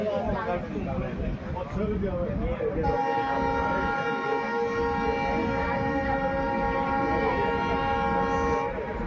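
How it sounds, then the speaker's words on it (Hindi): Bikaner–Delhi Sarai Rohilla SF Express (22471) departing Rajaldesar station, its loud horn holding a long steady blast for most of the stretch over rolling wheel noise, with a voice talking beneath. "तो पैसेंजर से क्रॉसिंग के बाद ट्रेन डिपार्चर हो रही है राजल देसर रेलवे स्टेशन से।"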